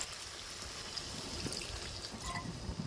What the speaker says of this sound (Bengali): তো চলো এবারে আমি একটু জল দেবো, তবে জলটা কিন্তু অল্প দেবো